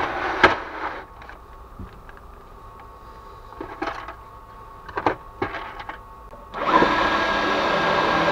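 A power drill runs during a campervan build where cabinet parts are being screwed together, with scattered knocks and short whirs before the motor settles into a steady, close drone for the last couple of seconds.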